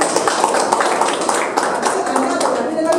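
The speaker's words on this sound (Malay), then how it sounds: "Beri tepukan kepada" Audience at a Malaysian health product presentation breaks into applause, a busy patter of many hands clapping fairly close, mixed with a voice over a loudspeaker and room noise.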